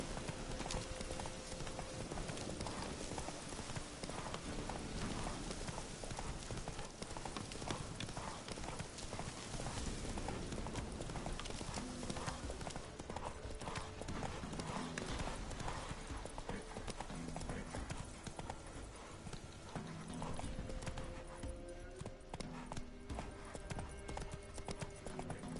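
A long, steady gallop by Roach, the horse in The Witcher 3, with loud, continuous rhythmic hoofbeats over a dense game soundtrack and a few soft whinnies.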